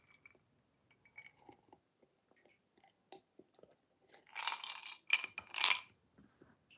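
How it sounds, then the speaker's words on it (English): Ice cubes crunched between teeth, a few loud close bites and crunching bursts after quiet moments of small mouth sounds, with no talking. "Sorry, I love chewing ice."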